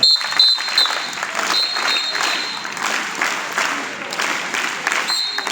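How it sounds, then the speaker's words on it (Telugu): An audience at a school gathering claps for the headmaster, a dense, steady burst of applause that runs the full length, with a faint high electronic whine threading through at times. "మా హెచ్ఎం గారికి మీ కరతార్థాలతో క్లాప్స్ కొట్టాలి ఒకసారి"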